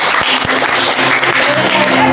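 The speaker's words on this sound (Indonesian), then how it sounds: "Boleh minta tepuk tangan?" A classroom full of people applauds, with loud, continuous clapping that holds steady throughout and no talking over it.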